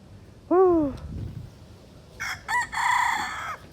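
A rooster crows twice nearby, a short call followed by a longer, louder cock-a-doodle-doo, with quiet background between.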